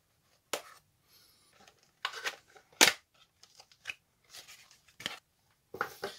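Plastic and cardboard packaging of RGB RAM modules being opened by hand during a gaming PC build, a series of close, short crinkling, tearing and snapping bursts separated by quiet gaps.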